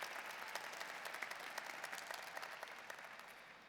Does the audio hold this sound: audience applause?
yes